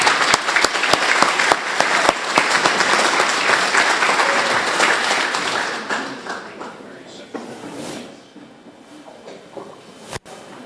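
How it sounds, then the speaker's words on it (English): A Republican party gathering breaks into a loud, dense round of applause from the audience, tapering off gradually over several seconds before a final clap. "Please give him a round of applause."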